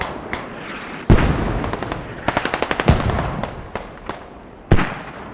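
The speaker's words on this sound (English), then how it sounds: "Mortars on the way." Explosions and gunfire from the video game Squad, set on the Kohat map, boom loudly with several big blasts, rapid bursts of automatic fire between them, and ringing decay after each impact.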